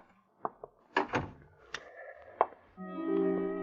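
A door closing in a 1940s radio drama, with a few close wooden thunks and a latch click, then a sustained musical tone or hum entering at the end.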